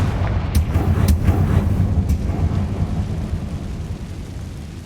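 A Confringo fire spell blasts in Hogwarts Legacy, a deep rumbling explosion with a few sharp cracks early on, then a sustained heavy roar that slowly fades, loud and close with no voices.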